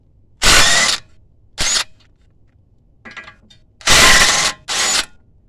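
An impact wrench removes bolts on a 2014 Kia Forte during wheel bearing and steering knuckle repair, firing in five loud, close bursts, one of them softer, with short pauses between.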